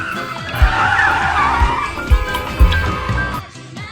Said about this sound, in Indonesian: Yina yang kaget langsung rem mendadak.